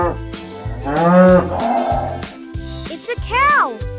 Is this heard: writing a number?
no